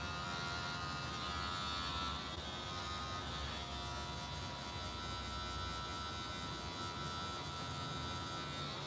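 Electric hair clippers cutting a low taper fade give a continuous close-up buzzing hum, steady and unbroken for several seconds, with no one speaking.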